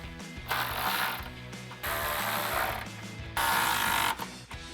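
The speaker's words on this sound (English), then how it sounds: "now I'm going to take a 10mm socket and wrench to tighten down the support bracket" A 10mm socket wrench ratchets in three loud bursts while tightening a bolt on a Jeep Wrangler JK steel side step support bracket, with dense clicking close up and short pauses between strokes.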